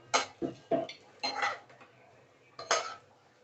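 Several sharp metallic clinks and scrapes of a utensil against a mixer jar as fried bottle gourd peel is transferred, coming in irregular bursts with quiet gaps between.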